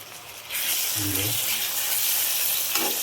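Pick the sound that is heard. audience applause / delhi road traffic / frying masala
frying masala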